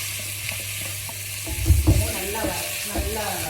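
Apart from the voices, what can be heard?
sautéing kozhukattai filling in a pan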